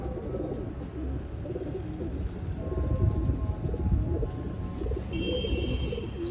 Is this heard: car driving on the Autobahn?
no